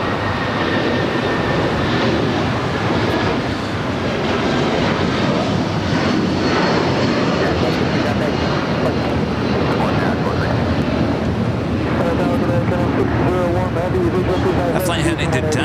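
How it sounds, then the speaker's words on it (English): United Airlines Boeing 757-300 taking off at LAX, a loud, sustained jet engine roar that fills the whole stretch, with people talking over it. "we got another United 757, this time a 300 taking off"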